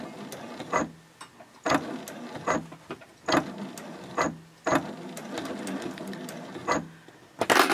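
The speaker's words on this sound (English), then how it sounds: "When you get back to that last corner, you're going to sew around just like you did before" A sewing machine stitches a fabric composition notebook cover in short bursts, pausing briefly between runs of rapid needle clatter, close and fairly loud.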